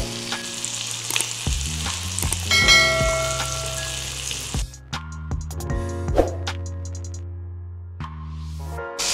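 Beef steak with garlic sizzles loudly in a frying pan, a dense continuous crackle that thins out halfway through, leaving sharp clanks and scraping with a faint ringing tone behind them.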